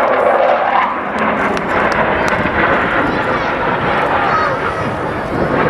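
Eurofighter Typhoon jet with 40,000 pounds of thrust on afterburner at a Scottish air show over Ayr beach: a loud, steady roaring rush of jet noise fills the whole stretch with no pause.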